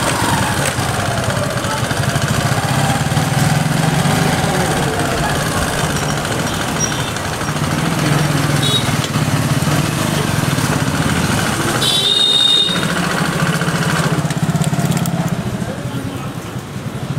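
A motorcycle rides along a busy main market road in Thanesar, India. Its mid-pitched engine hums steadily and fairly close for the whole stretch, with a brief dip near the end.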